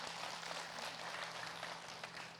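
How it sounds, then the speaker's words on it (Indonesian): A studio audience applauds a teacher on an Islamic talk show, with steady, fairly faint clapping that holds evenly for a couple of seconds. "Tepuk tangan buat guru kita."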